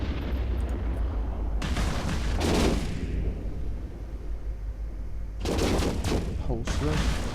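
Bursts of heavy weapon fire from ships in EVE Online, two broadband volleys a few seconds apart over a constant low rumble, loud and dense, with a voice faintly present.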